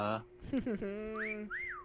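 A tonal whistle with rising and falling glides, preceded by a short burst of voices; the whistled notes sweep up and down twice.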